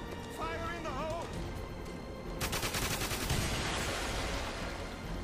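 Gunfire and an explosive burst from a grenade launcher in the shooter game GoldenEye Reloaded, a sharp broadband blast partway through amid busy game noise, with a player talking over the action.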